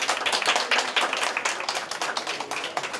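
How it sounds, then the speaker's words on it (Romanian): Party guests clap for a few seconds, a modest group with distinct, fairly rhythmic handclaps that thin out slightly toward the end. "Aplauze pentru nostru!"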